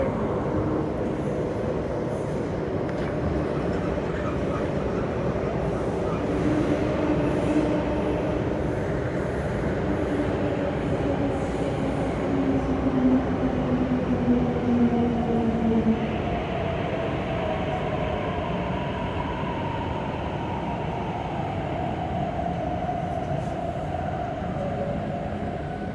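A metro train rumbles and whines into Diamond Hill station in Hong Kong, its tone gliding downward as it slows, with loud steady rolling noise throughout.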